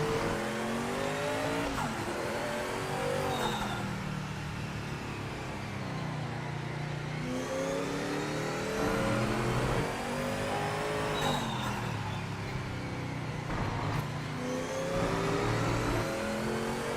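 Race car engine in the Project Motor Racing sim game, revving up and down through repeated gear shifts with rising and falling pitch sweeps, loud and continuous, with faint tire squeal and no talking.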